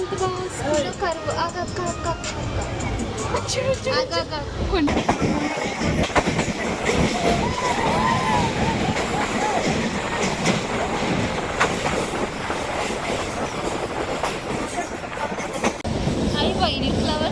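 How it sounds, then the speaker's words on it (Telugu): Passenger train on the Araku line rumbling steadily along the tracks, with rhythmic clickety-clack from the wheels and a constant loud rolling roar, while people chat over it throughout. "ట్రైన్ ఎంత బాగా వస్తుందో"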